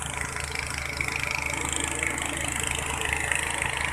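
A tractor engine idling with a steady low rumble and constant mechanical hum, no voices.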